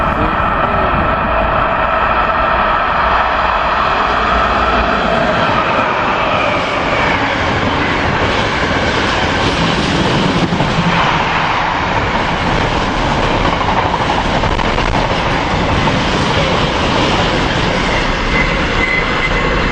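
A freight train of box containers rolls past close by, a loud sustained roar of wagons with rhythmic clickety-clack from the wheels and occasional squealing, unbroken for the full twenty seconds with no talk.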